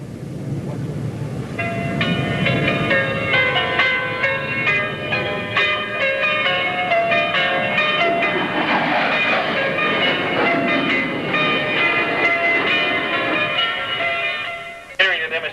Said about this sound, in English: Captain Weiler in the graceful flow roll